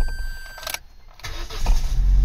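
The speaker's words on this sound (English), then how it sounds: "The car is now running. I can rev it up." A Vauxhall Corsa engine cranks and fires into a steady running idle, close and loud, with a brief click before the start and a low rumble building afterward; the car has a P1615/P1616 non-start fault and CAN line bypass.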